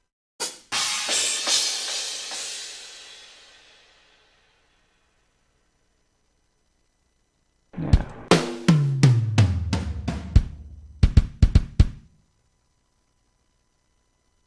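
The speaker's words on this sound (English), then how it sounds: "You can hear the rattle of the snare in the background there." A crash cymbal washes out and fades, then after a pause a run of tom hits rolls downward with a faint snare buzz ringing underneath.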